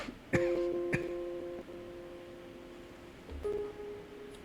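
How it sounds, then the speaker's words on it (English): A person coughs sharply twice, then clears their throat with a short rumble, close and fairly quiet, in an otherwise still indoor space. "I needed to cough,"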